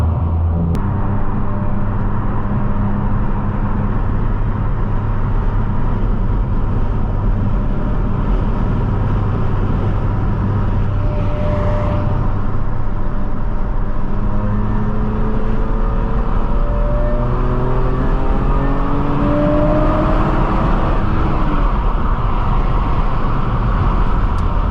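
A BMW E46 M3 CS being driven hard on an open road, its engine droning steadily and rising through revs in sweeping climbs, heard from inside the cabin with no talking.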